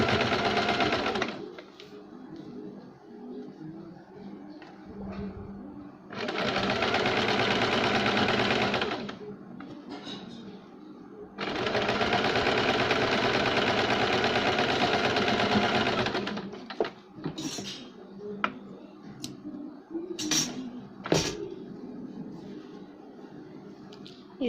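Sewing machine stitching the armhole of a cold-shoulder sleeve, running in two long steady bursts of rapid, even whirring separated by pauses with fabric handling and small clicks.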